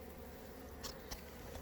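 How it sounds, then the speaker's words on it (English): Many bees inside an open beehive make a steady, faint buzzing drone, with a couple of brief louder passes close to the listener. "it's a lot of bees in there"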